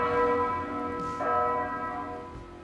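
Church bells ring in King's Landing from Game of Thrones, a dense, resonant peal of overlapping tolls sustained at moderate volume with no voices.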